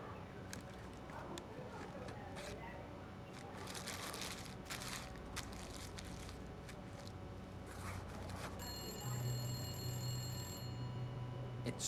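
Telephone ringing in the video game The Gallery, a repeated electronic ring over ambient game sound, moderately loud and continuing through the scene without talk.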